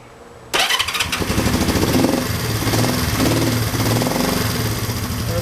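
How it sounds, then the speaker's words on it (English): A Honda 350 motorcycle with freshly tuned carburetors fires up after a brief silence, catching abruptly and settling into a loud, steady, slightly lumpy idle close by. "I'm going to turn the key on and fire it back up."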